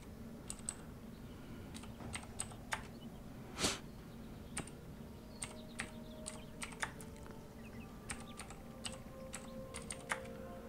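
Rapid keyboard typing for a chat command in the 2015 online game ArcheAge, a steady run of close, crisp clicks over a low background hum with no talking.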